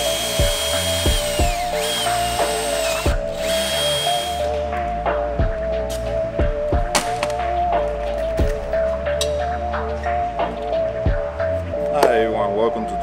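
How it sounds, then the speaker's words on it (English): A power drill bores a small bolt hole for a clamp nub while working on a car with an SR20 engine, giving a continuous whine punctuated by repeated sharp bursts and knocks, close and fairly loud throughout. "I'm gonna drill like a little hole that I can put a bolt through"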